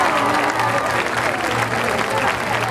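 An audience at a school recital claps warmly for a birthday, dense applause holding steady for the full stretch, close and loud with a low hum underneath.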